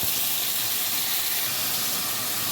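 Onion, garlic and carrot sautéing in a pan, a steady dense sizzle and hiss that fills the whole moment, close and loud with no voices.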